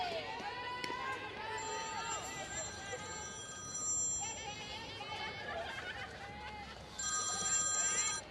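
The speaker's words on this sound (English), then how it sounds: "Our press box is getting busy with phone calls and faxes." Telephones ring in a busy press box at a UBC Thunderbirds versus Carroll Fighting Saints softball game, repeated electronic trills over crowd murmur, with an announcer talking throughout.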